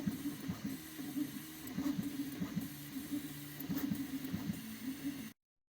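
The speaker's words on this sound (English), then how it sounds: "And this is the print resuming." A 3D printer resumes a print on an LED Christmas ball, giving a low mechanical whir with stepper-motor tones that rise and fall in short bursts, close and fairly quiet, before it cuts to silence.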